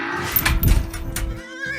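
A toy-farm horse neighs in a short, loud whinny that rises and wavers over roughly a second, set among playful farm-rescue play sounds with no voices over it.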